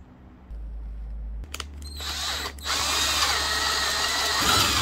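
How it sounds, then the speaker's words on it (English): A power drill with a 1/16 inch bit whirs up to speed and keeps running steadily, with a high mechanical whine and grinding as the bit bites in drilling pilot holes, close and loud. "I use a 1/16 inch bit to drill pilot holes in a spiral pattern"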